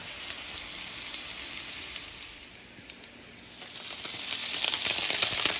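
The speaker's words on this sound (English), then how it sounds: "just letting them get a hard sear on each side before you go ahead and flip them" Meat sears in butter in a hot pan, giving a steady close sizzle and crackle that dips briefly and then rises louder, with no talk.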